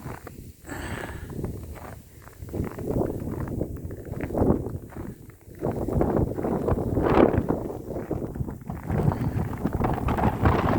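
Blizzard wind drives snow in strong, gusting roars close to the microphone, with buffeting wind noise and a few crunchy footstep-like sounds, and no talking.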